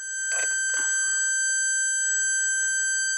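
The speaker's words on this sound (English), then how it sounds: "We move it back until it starts to beep." A Maxitronix ferromagnetic substance detector gives a continuous high electronic tone, with a couple of brief clicks or knocks near the start and faint handling sounds beneath.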